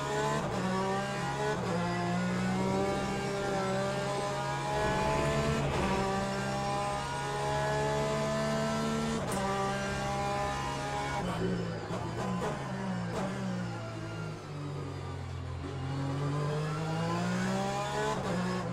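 Race cars in the Le Mans Ultimate racing game, engines revving up and down through gear changes in a continuous whine, fairly quiet, with the tone sweeping and dipping near the end.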